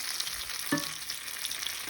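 Steady hissing sizzle of a vegetarian chimichanga frying in hot oil, with a brief clatter partway through.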